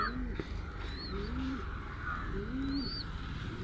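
Parava pigeons being hand-fed give repeated soft, close coos, with a few higher chirps from other birds over a low background hum.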